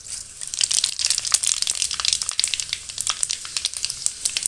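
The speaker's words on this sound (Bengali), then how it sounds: "তেলের মধ্যে দিয়ে দিচ্ছি ফোড়নের জন্য তেজপাতা, শুকনো লঙ্কা, পাঁচ ফোড়ন" Bay leaf, dried chilli and panch phoron spitting in hot oil for tempering, a bright, crackling sizzle with sharp irregular pops, close and loud, with no talk over it.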